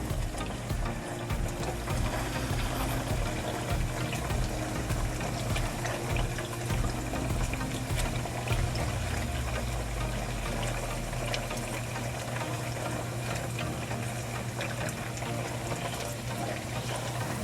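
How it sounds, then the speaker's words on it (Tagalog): Water drains steadily from a block of tofu in a home kitchen, a continuous splashing, trickling wash that stays even and close for the whole stretch, with no talking. "I-drain lang po natin maigi yung tubig dun sa tofu para hindi siya matalsik pag pinirito."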